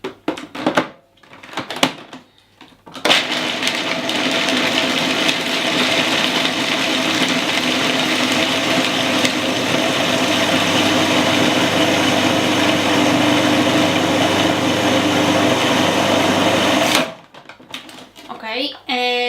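Food processor grinding dry ingredients for a vegan chocolate crust, a loud steady whirring motor that starts abruptly, runs for about fourteen seconds, then cuts off, with a voice before and after.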